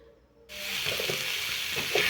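Hot water poured into a pan of egg and fried cauliflower curry being cooked Bengali style, a sudden gushing splash and hiss that starts abruptly after a quiet moment and continues steadily, close and fairly loud, no talk.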